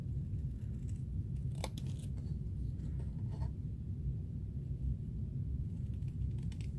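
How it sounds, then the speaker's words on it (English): Scissors cut through a hot-glued crepe paper border for fall pumpkin rosettes, giving a few faint snips and paper rustles over a constant low room rumble. "we are just going to cut that border"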